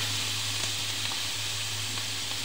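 Garlic sizzling in a hot pan, a steady broadband frying hiss that holds evenly throughout at moderate level, with no talking.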